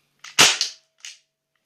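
A gas-powered airsoft gun fires one loud, sharp crack with a short hiss tail, followed by a smaller snap a moment later, close and in quiet surroundings.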